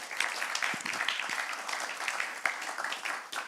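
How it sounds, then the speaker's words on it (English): A crowd applauding steadily, a dense patter of many hands clapping together without voices on top. "So we can clap them once more."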